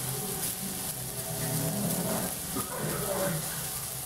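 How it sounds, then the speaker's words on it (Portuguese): Meat fries in a pan with a steady, dense sizzle and crackle that runs unbroken throughout, close and fairly loud. "enquanto vai fritando aí"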